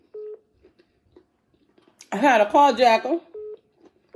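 A mobile phone gives short electronic beeps, one near the start and another near the end, clear and close, while someone talks loudly in between.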